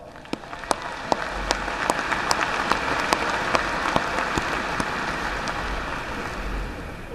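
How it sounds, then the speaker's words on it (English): Sustained applause from a large crowd at a university spring commencement for the graduating class, a steady wash of clapping with some sharp individual claps standing out throughout. "Let's give these graduates a round of applause"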